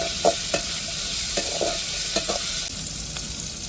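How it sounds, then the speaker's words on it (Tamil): Onions with a little salt sauté in a hot frying pan, a steady close sizzle broken by several scraping stirs of a spoon against the pan, with no voices. "வெங்காயத்தோடு நல்லா வதக்கி விட்டுக்கிடுவோம்"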